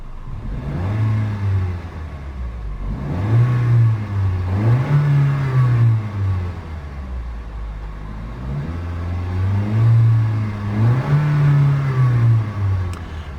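A 2018 Toyota C-HR with a 1.2 engine revs up and back down repeatedly, a close mid-pitched engine note that rises and falls in several swells over a steady idle rumble, with no speech.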